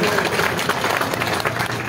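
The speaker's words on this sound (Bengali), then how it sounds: "ওনার জন্য একটা হাততালি হয়ে যায়" Steady applause from a crowd welcoming a Member of Parliament at a reception held by a market traders' association, dense continuous clapping filling the room with faint voices mixed in.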